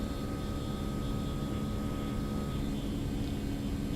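An airliner's engines hum in a steady, even drone inside a flight simulator game, with no voices and no change in level.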